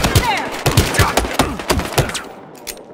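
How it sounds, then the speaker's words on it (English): Rapid gunfire from Battlefield Hardline, a burst of repeated sharp shots in a steady rhythm that fades out near the end, with faint game voices underneath. "Make those shots count."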